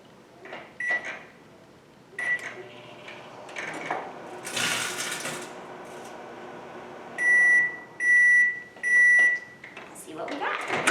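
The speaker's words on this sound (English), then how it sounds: "I'm just going to microwave it for 5 seconds." A microwave oven hums faintly for a few seconds, with clicks and handling sounds around it and a person speaking. Three loud, evenly spaced completion beeps come near the end.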